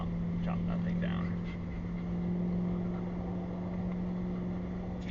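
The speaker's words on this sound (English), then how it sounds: "This truck makes a little bit of noise" A RAM TRX 1500 pickup fitted with Eibach HD lift springs drives along, its engine and road noise forming a steady low drone with a constant hum throughout, and faint voices mixed in.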